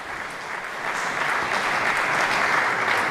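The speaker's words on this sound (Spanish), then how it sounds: "le agradecen todos los presentes con un gran y acogedor aplauso" Officials and guests in Luxembourg give Pope Francis warm applause, a steady roar of many clapping hands in a large hall that builds slightly after the first second and holds.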